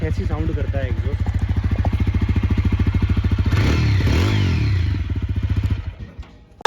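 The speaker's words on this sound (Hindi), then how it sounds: "तो नॉर्मल होने के बाद में कुछ ऐसी साउंड करता है एग्जॉस्ट।" A 2025 TVS Apache motorcycle exhaust putters in a fast, even rhythm of low thumps, loud and close, with a brief blip of revving midway before it fades.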